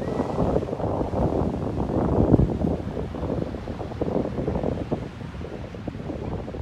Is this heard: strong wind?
yes